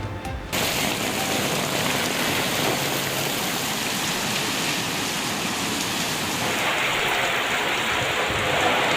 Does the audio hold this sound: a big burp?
no